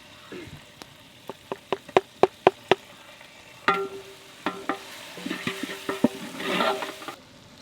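A spoon scrapes and clinks against a kadai while quail biryani masala fries, a quick run of sharp taps followed by stirring over a soft sizzle, close by with no talk.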